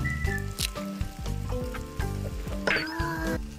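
Thin hotpot pork slices sizzle steadily in a hot pan, with a constant crackling fry and light scraping or stirring throughout.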